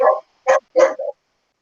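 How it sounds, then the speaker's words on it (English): Dog barks in three short, close bursts followed by a softer whimpering yelp, with silence after. "He started barking."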